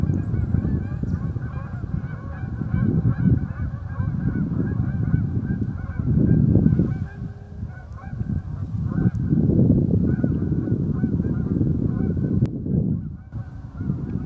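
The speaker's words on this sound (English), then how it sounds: "symphony of geese all around me" A large flock of geese honking continuously, many overlapping calls near and far, rising and falling in waves.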